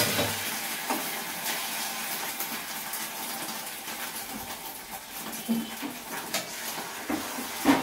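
An egg fries in hot oil in a pan for a home-style potato and egg curry, a steady close sizzle with soft crackles and a few louder pops near the end, no talking.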